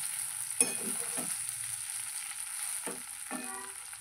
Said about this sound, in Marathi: एक 5 ते 10 मिनिटं याला फ्राय करून घ्यायचं आहे व्यवस्थित।